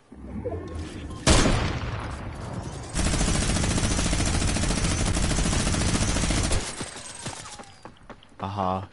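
Gunfire in an online shooter video game: a sharp single blast, then a dense, sustained volley of rapid automatic shots lasting several seconds, loud and close, fading into scattered quieter bursts.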